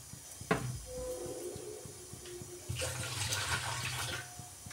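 Water is poured into a wok on a lit gas stove, a near splashing pour with a sharp start that rises into a fuller rushing gush, over a steady background hiss and with nobody speaking.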